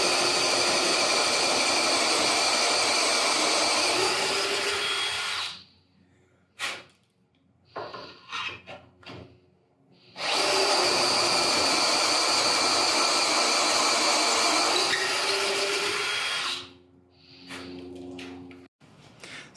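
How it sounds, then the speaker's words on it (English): Two long bursts of a loud, steady drill whine, each lasting several seconds, drilling maple hardwood through a half-inch doweling jig, separated by quieter clattering and handling noises. "Got this cool doweling jig that'll take a half inch dowel, and we've been drilling through the wood."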